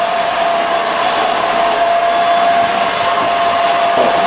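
A hair dryer blows hard and close during a men's high-fade haircut in a barbershop, a loud, steady roar with a faint whine that holds evenly throughout, no voices.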